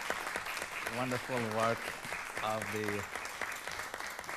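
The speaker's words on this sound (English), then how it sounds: "can you all give a big round of applause to the" Applause from the audience at a city council meeting, a steady broadband patter running through the clip beneath a speaker's voice that talks over it.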